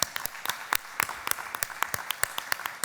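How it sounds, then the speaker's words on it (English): An audience claps at a Philadelphia World Heritage City celebration, the applause fairly sparse and uneven, with distinct individual claps popping out over a thin, moderately distant background. "I want to give them a big round of applause"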